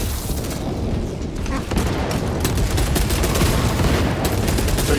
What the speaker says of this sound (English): Fragmentation grenade